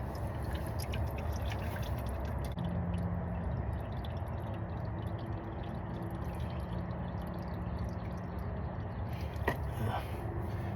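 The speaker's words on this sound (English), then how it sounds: "I'll let that drip." Warm engine oil drips and trickles steadily off a part that has just been removed during an oil change, a faint, continuous dribble set against background noise.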